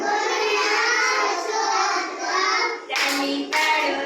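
Young children at an anganwadi clap their hands during an action song, with singing voices carrying the tune over the steady patter and a couple of sharper, louder bursts of claps near the end.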